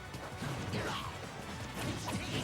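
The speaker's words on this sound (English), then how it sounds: "As those F smashes, when they connect" Forward smash hits connecting in a Super Smash Bros match between Villager, Greninja and Lucario, heard as a dense run of punchy impact thwacks and crashes over continuous game audio and crowd-like noise.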